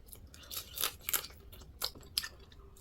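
Crunchy, wet chewing and biting while eating spicy mala crayfish dipped in broth, with several close, distinct crunches spaced irregularly across a quiet room and no talking.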